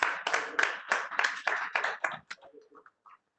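Seminar audience on accounting and audit standards applauding: loud, close bursts of clapping in a choppy rhythm that thin out and fade to a few scattered claps near the end.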